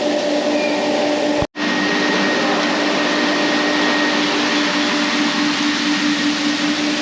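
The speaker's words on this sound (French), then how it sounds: "on a le poireau qui passe dans le laveur" A leek washing machine running on a farm during harvest processing, a loud, steady broadband machine roar with a brief cutout near the start, otherwise continuous and close.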